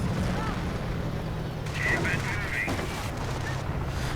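Heavy anti-tank gunfire and explosions in a real-time strategy battle around a King Tiger tank, a dense rumbling barrage of low booms running throughout with occasional sharper metallic ricochet-like pings over the top.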